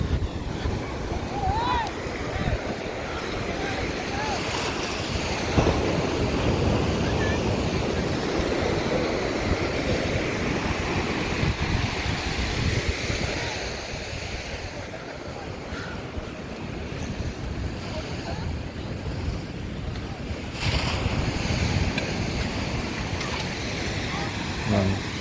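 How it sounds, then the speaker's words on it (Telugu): Waves on Calangute Beach in Goa, a continuous broad roar of surf mixed with wind noise on the microphone, steady throughout, with a voice talking over it. "ఇదంతా కలాంగుట్ బీచ్, గోవా."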